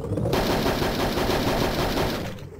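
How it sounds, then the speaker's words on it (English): Weapons firing in Hogs of War, one sustained rapid burst of gunfire that starts abruptly, holds loud and dense for about two seconds, then cuts off. "Fire all phasers."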